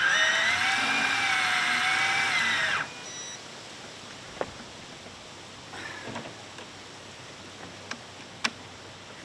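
Kaigen Banax 1000 electric fishing reel hauling up a 12 pound lead weight, a steady loud motor whine for about three seconds that then cuts out, leaving a quiet background with a few faint clicks.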